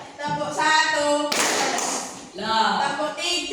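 Pupils in a classroom give a single clap on command, a short, loud collective burst of many hands set between stretches of children's and a teacher's voices.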